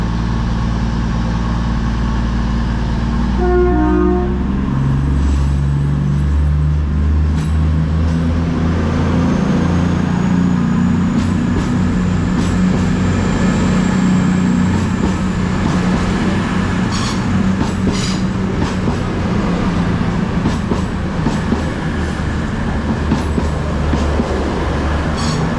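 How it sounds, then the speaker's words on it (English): A cross-country passenger train formed of class 220 units 220027 and 220024 departs York station, its engines droning loudly and wheels rumbling as it pulls away, with faint squeals and clatter over the tracks. "we're going out now, it's a 10:32 cross-country service to Edinburgh"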